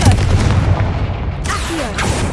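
A Confringo blast spell goes off in the video game Hogwarts Legacy, a loud, close explosive burst whose heavy rumble and crackling debris fill the whole moment, with a couple of sharper hits partway through.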